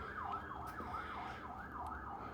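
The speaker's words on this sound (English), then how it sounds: "Sorry if you hear the sirens in the background." A wailing emergency siren rises and falls repeatedly at a steady distance, blended with low background rumble.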